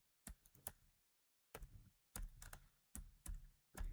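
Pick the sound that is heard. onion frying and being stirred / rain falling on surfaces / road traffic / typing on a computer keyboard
typing on a computer keyboard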